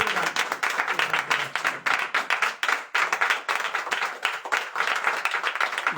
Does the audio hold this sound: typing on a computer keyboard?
no